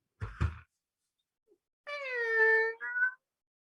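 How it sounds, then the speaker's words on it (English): Electronic whirring tone, as from the Splinter Cell video game night vision goggles, rises into a steady harmonic hum lasting about a second and a half, preceded by a brief soft rustle. "That was the Splinter Cell goggles."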